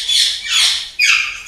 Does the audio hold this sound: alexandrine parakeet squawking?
yes